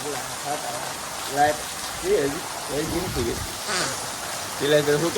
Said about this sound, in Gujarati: એટલો બધો વરસાદ આવી રહ્યો છે